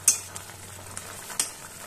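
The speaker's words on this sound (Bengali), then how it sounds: "এবার কিছুক্ষণের জন্য এটা ঢাকা দিয়ে ফুটতে দেবো, যাতে মাছগুলো সেদ্ধ হয়।" Hilsa fish curry with eggplant simmers in a pot, a soft sizzling bubble broken by a few sharp clinks and taps of a utensil, close and fairly quiet.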